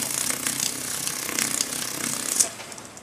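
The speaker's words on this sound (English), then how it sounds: "I'm also using the split mandrel to go around the edge that I sawed" A split mandrel with sandpaper spins against the sawn edge of a metal ring, giving a continuous close, buzzing and rattling grind that rises briefly before easing off.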